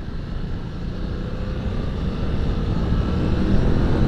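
A 2024 BMW F 900 GS motorcycle engine drones loudly and continuously while downshifting on the road, the roar slowly swelling over a few seconds with wind rush mixed in.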